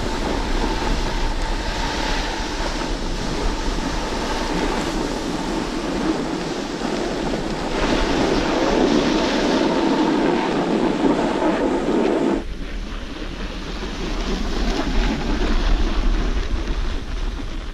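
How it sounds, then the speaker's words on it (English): Snowboard edge sliding and carving across a mellow snow slope, a steady loud broadband scraping hiss throughout that swells in the middle and shifts tone partway through, with no talking. "just slide your board down and then work on getting that edge into the snow"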